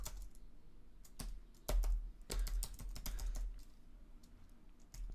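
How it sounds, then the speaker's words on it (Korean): Typing on a computer keyboard while writing Python code with a conditional list comprehension: irregular bursts of sharp key clicks with brief pauses, close and moderately loud, no talking. "다시 타이핑을 하긴 했지만"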